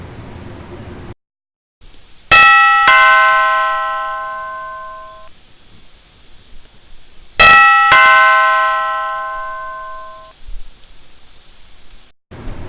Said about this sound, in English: there's the doorbell